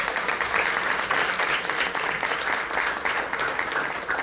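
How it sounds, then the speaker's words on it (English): An audience applauds steadily, dense clapping from many hands at an even level throughout, with no voices standing out. "can we give her a big round of applause?"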